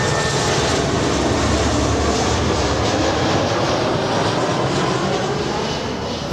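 A Delta Airbus A319 arrives at LAX from San Francisco, a loud, steady jet engine roar that fills the whole clip and eases slightly toward the end.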